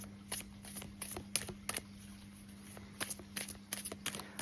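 Oracle advice cards shuffled close up in a quiet room, a continuous soft riffling with repeated brighter flicks and snaps while a steady low electrical hum runs underneath.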